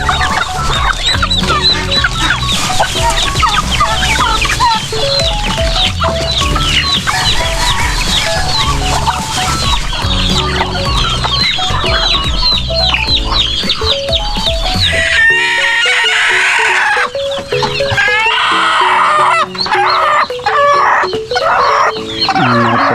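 Pet chickens on a farm cluck and crow loudly and close by, joined by other backyard fowl such as ducks and turkeys, in a dense, continuous chorus.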